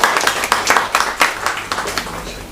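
An audience applauds an award decision at an All India Ulama Board event, producing a dense, irregular clatter of hand claps that stays fairly loud and close for the whole stretch.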